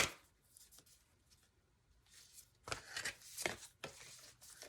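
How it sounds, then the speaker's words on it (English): Tarot cards shuffled by hand, a run of soft papery riffles and slaps coming in quick bursts near the end, close and fairly quiet with no talk. "3 cards had flipped over as shuffling."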